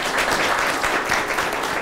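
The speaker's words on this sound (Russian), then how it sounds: "Ваши аплодисменты." Audience applause at an award ceremony for a mathematics medal and prize, a dense, steady wash of clapping from many hands filling the hall at close range without a break.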